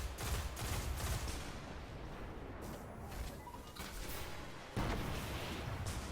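Rocket launcher blasts and explosions in the video game Destiny, with heavy booms and rumbling bursts rising and falling over a dense, noisy battle background at moderate loudness.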